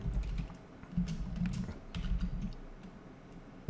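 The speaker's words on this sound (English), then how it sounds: "Let me type" Keys clatter on a computer keyboard in short, uneven bursts of typing, close and moderately loud, with pauses between runs and no talking.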